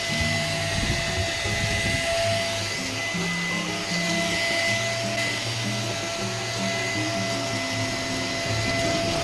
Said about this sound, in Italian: devo aspirare regolarmente per prevenire il suo accumulo